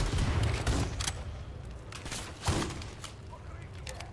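Shotgun attachment blasts in the video game Call of Duty: Modern Warfare 3, several sharp booming shots amid ongoing combat noise, with a strong hit near the middle and a voice talking over it.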